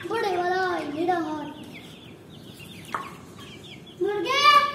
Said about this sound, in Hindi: सारे मुर्गे हैं सारे मुर्गे पांच मुर्गे हैं